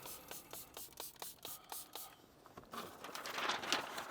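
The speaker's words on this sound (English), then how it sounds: "I'm gonna spray it on again." A trigger spray bottle mists liquid onto a car radio touch screen while a protector film is fitted, giving a quick run of short, evenly spaced hissing bursts and then a longer, louder spray near the end.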